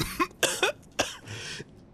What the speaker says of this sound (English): Listening to you is making me cough